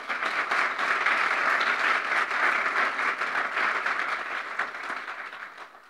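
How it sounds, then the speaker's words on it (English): Applause at a press conference after a SpaceX launch in Texas, a dense crowd of clapping that stays loud and steady for several seconds before tapering off slightly at the end. "Can we please take a moment to give this partnership a round of applause?"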